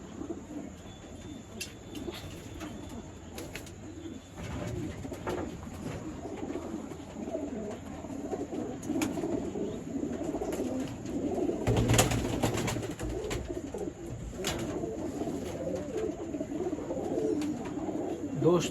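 Red pigeons cooing in a loft, soft repeated low coos from several birds close by, with occasional chirps and faint background noise throughout.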